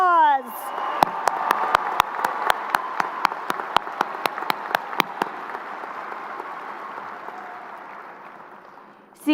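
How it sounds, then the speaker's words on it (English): Audience applause for graduating seniors at a high school graduation, a steady wash of clapping that slowly fades, with some sharp ticks standing out. "Please give these seniors a round of applause."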